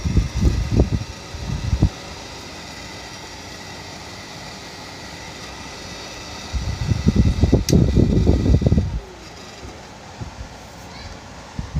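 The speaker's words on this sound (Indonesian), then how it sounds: "Kita menggunakan blower saja ya." A hot air blower heats the LCD screen of an Oppo A3s phone during a repair, a steady fan-like rush of air running through the whole stretch, with louder bursts of handling noise near the start and in the middle.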